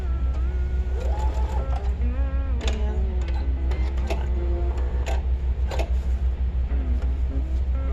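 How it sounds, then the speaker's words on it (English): A sewing machine stitching a 1/4 inch seam on a fabric mask with elastic ear pieces, a steady close mechanical whir with a low hum and ticking, joined by faint tonal sounds that come and go. "I'm going to back stitch when we get to the center fold"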